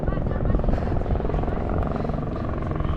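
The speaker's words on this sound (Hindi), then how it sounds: "तो एक हेलीकॉप्टर वहाँ खड़ा हुई है और एक आ रहा है अभी।" Helicopter rotor and engine drone, steady and fairly loud throughout, heard arriving over a mountain pilgrimage route near Pahalgam, with people talking over it.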